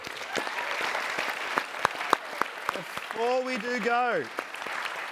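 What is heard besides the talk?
audience applause for the panellists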